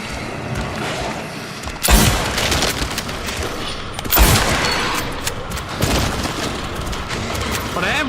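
Hunting rifle shots fired in the Silent Hill 2 Remake video game: two loud, sharp booms a couple of seconds apart, each trailing into a rumbling echo over busy game background noise.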